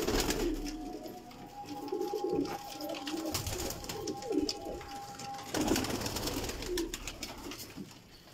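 Rare, high-class pigeons cooing in a loft, low throaty coos repeating steadily at close range, with a faint tonal hum running through part of the recording.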